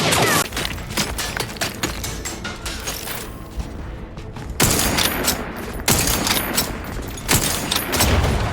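Gunshots in the video game The Outer Worlds 2: loud, sharp volleys of rapid shots with mechanical clatter and thumps, firing almost nonstop, broken by a brief lull before heavier bursts resume.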